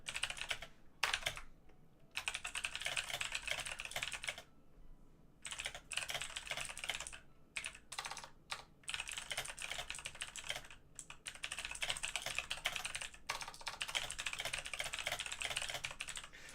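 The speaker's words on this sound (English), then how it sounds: "My keyboard's probably super loud." Rapid, continuous clatter of a computer keyboard being typed on, close and fairly loud, with brief pauses between bursts of keystrokes.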